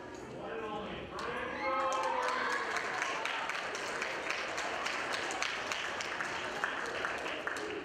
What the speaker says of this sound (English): Students at Barcelona Elementary School in Glendale cheered and clapped when a monster walked into their auditorium